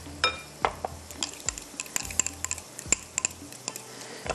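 Masala with yogurt for Kashmiri chicken roasts in a pan, with scattered spoon clinks and scrapes against the metal over a faint sizzle, close and sparse, with no voices.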